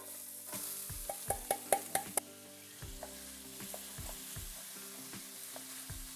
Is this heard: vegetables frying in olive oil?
yes